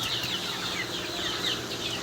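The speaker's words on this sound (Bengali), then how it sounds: "এর ভিতরে রয়েছে এই যে মুরগিটা" A young native chicken, a small rooster, clucks faintly and sporadically amid steady background noise while it sits in a container being weighed on a scale.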